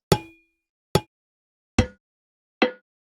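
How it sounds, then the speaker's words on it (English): Four evenly spaced metallic clangs from the Minecraft copper block sound with effects added, each a sharp bright hit with a short decay, the last slightly duller and lower. "To continue the theme of new blocks, I'll use a copper block, just with some effects."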